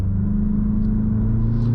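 A 2023 Mazda CX-50 Meridian Edition accelerates in second gear, its engine giving a steady, close, low rumble that holds an even drone from the cabin throughout.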